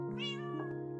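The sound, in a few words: cat meowing in Minecraft video game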